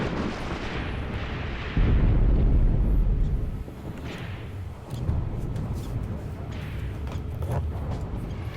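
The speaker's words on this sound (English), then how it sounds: "Devastating artillery strikes, of course." Artillery strikes in the war game Graviteam Tactics: Mius Front, deep rumbling blasts rolling in from a distance, one heavier thud swelling for over a second, then lighter distant booms under a constant low battlefield roar.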